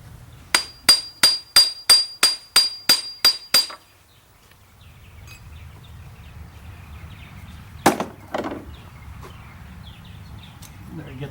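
Metal hammer blows drive a pin out of a Case 580 Super L backhoe boom cylinder, about ten sharp, evenly spaced strikes close by, followed by quieter shuffling and one or two more hits with faint background noise.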